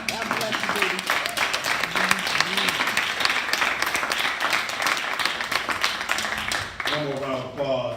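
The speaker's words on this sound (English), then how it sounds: "One more round of applause." Sustained audience applause at a tribute event, many hands clapping in a dense, loud wash that runs steadily before a voice begins speaking over the tail end.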